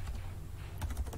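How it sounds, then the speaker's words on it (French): Rapid light key clicks from a computer keyboard during spreadsheet work, several taps close together, fairly quiet and clear with no talk over them. "excusez mon clavier"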